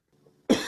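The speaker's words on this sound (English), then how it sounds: "we have a cough" One short, sharp cough bursts out suddenly after near silence, close and fairly loud, ending abruptly.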